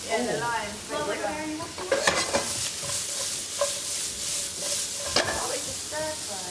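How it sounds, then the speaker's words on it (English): A stir fry sizzles in a pan while a utensil scrapes and stirs through it, steady frying crackle under brief scraping knocks, with a voice sounding briefly at the start. "oh, it's a stir fry"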